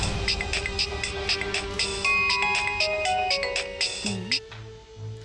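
A mobile phone ringtone sounds for an incoming call in a Tamil TV serial scene, a melodic repeating tone pattern over music, loud and steady before fading near the end.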